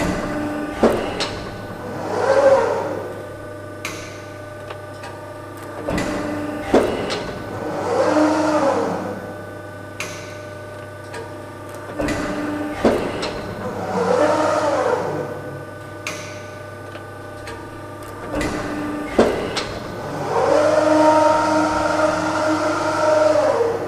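CybTouch 8 controlled sheet metal shear running programmed full and short strokes with retract on, a repeating cycle of rising motor whine and mechanical clunks every few seconds over a constant low hum.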